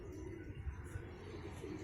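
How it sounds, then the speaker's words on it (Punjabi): A pigeon coos softly in low, repeated throaty calls, faint and close against a quiet background hum, with no voices. "ਬਗਲਾਂ ਟੂਸੇ ਵਾਲਾ ਕਬੂਤਰ"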